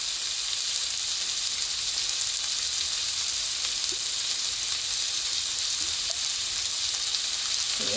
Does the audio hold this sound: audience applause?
no